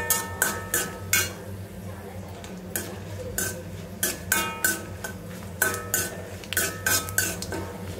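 Dried red chilies fry in a pan for radish chutney, with a sharp metal spatula clinking and scraping in quick irregular bursts over a low, steady frying hiss. No talking.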